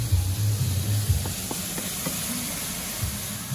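Lardons sizzling in a frying pan as their fat runs out, a steady close hiss with a few faint crackles and no talking.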